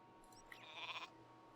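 A sheep bleats in Warcraft 3, a single short wavering bleat at moderate volume over a low steady background hum.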